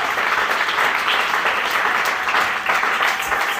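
A church congregation at a deliverance service claps in a sustained, dense burst of applause, loud and steady throughout with no pauses.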